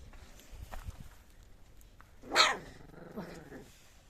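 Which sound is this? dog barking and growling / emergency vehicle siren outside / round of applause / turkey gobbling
dog barking and growling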